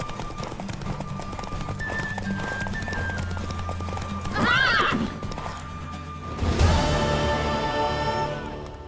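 A horse in The Witcher 3 gallops with rapid, rhythmic hoofbeats. Partway through comes a loud, close whinny, then a sharp burst of clattering noise, all over a continuous game background.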